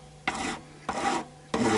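A metal file scrapes across the frets of a made-in-Japan Westone Raider guitar during a re-fret, three separate, close, rasping strokes with short pauses between them.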